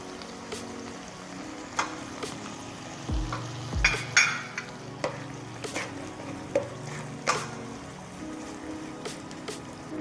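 Meat stir-fried in fragrant curry paste for a Thai green banana and minced pork curry, with steady stirring scrapes and soft frying hiss, a couple of louder thuds near the middle, and no talking.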